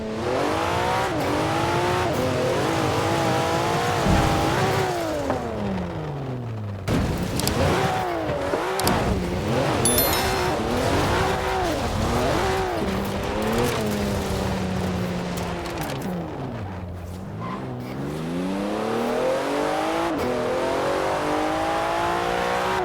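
A Porsche 911 Turbo S in the Forza Horizon 4 racing game roars through repeated upshifts during a drag event, the engine note climbing and dropping, with loud revving, brief tyre squeal and lifts off the throttle, and no talking.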